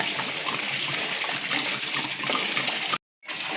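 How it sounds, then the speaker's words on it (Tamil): Steady rushing of water pouring into a large cooking pot for mutton biryani, continuous and close, with a brief break near the end before the flow resumes. "இப்போ வந்து உலைக்கு தண்ணி ஊற்றிக்கலாம்"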